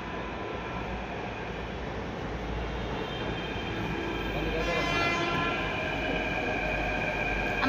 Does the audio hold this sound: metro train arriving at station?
yes